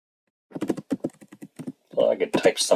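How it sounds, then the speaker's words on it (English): Keystrokes on a computer keyboard while entering text into a file from a Linux terminal, a quick run of separate taps followed by denser, louder clatter near the end. "So I could type something like that."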